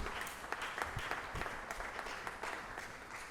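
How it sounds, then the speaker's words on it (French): Faint applause from an audience at a university event in Kinshasa, a thin scattered patter of clapping with soft irregular peaks, heard from a distance. "Je pensais qu'on allait applaudir pour ce centre d'excellence pour les batteries."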